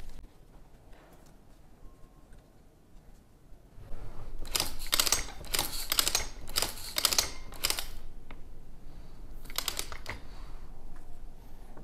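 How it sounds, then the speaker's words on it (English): A 3x5 Kelsey Excelsior tabletop printing press being worked gives loud, close mechanical clanks and thumps in uneven bursts over a steady background hum. "So I have the cut here in my 3x5 Kelsey Excelsior tabletop press."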